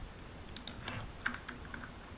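Soft, sparse clicks of a computer keyboard, a few isolated keystrokes spread over about two seconds, light and close with no talk.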